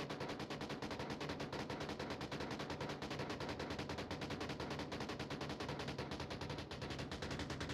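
Rapid suppressive gunfire in the VR shooter Onward during a competitive league match, a dense, steady stream of automatic shots rattling continuously at an even rhythm.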